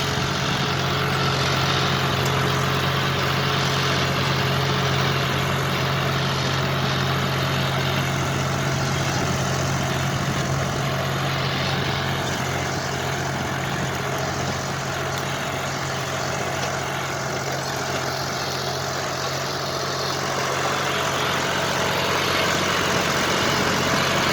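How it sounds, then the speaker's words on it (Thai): A John Deere 5310K three-cylinder 55 hp tractor engine idles steadily, a close, constant low rumble with a droning hum that holds evenly throughout, with no talk over it. "เป็นเครื่องสามสูบนะครับสามสูบ"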